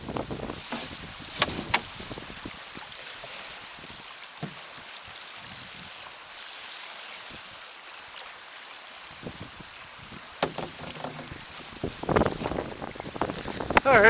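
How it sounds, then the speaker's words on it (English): Strong gusty wind buffets the microphone during a fall canoe trip in Quetico Park, a loud continuous roar with sudden bursts, plus some paddle and water splashes toward the end. "It's windier than hell today."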